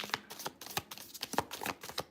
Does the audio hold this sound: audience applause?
no